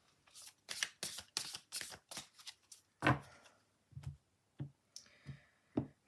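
Quantum Oracle cards being shuffled by hand: a quick run of crisp riffling clicks and flicks, then scattered softer taps and slides as cards are handled, close and quiet.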